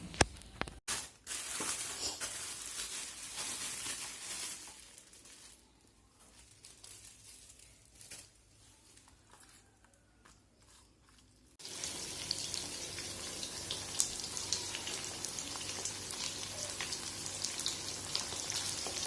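Boal fish frying in a pan makes a dense, rain-like sizzle throughout, dipping quieter through the middle and then rising back to a loud, steady crackle.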